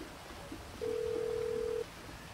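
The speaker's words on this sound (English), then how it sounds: "Better answer your phone, Jizzle." Single steady electronic phone tone in Grand Theft Auto V, lasting about a second over quiet game ambience.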